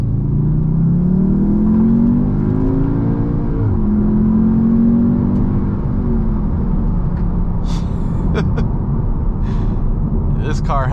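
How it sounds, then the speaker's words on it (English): A 2021 Audi TTS engine drones loudly at full throttle from inside the cabin, its pitch climbing through gears with brief drops at each shift. "Get it up to 25, and we'll mat it and see how fast we can get it to go."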